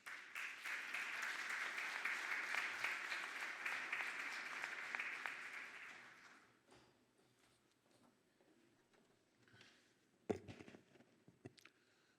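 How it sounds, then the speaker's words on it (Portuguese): At the opening session of a European funds exhibition, an audience applauds for about six seconds, then the clapping dies away into a quiet room with a few scattered knocks and thumps. "Uma salva de palmas."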